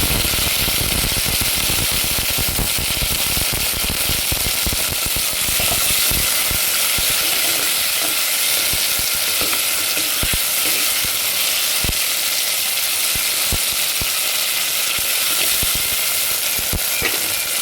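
Mashed tomatoes frying in a pan for a vegetarian fish-style kuzhambu made with toor dal, producing a steady, dense crackling sizzle dotted with sharp ticks and clicks, close and continuous with no talking.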